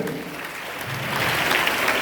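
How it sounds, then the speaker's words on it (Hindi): An audience breaks into loud applause, a dense burst of clapping that builds and holds steady for the whole moment, with no talk over it. "आगे ना एक जोरदार ताली होना चाहिए।"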